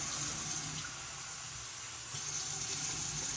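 Tap water runs steadily into a pan at a kitchen sink, a continuous close splashing rush lasting several seconds with no talking.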